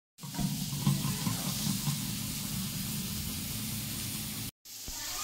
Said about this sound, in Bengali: তো দেখলেই তো পমফ্রেট ভাজা করলাম।